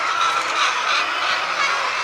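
A laying hen in a backyard gives a short burst of close, raspy clucking over a steady background hiss.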